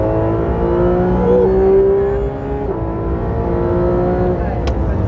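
A Porsche 911 GT3 RS engine revs hard toward 9000 rpm on a race track, a loud, steady, high-pitched wail that climbs and holds, then eases briefly, with a voice talking over it.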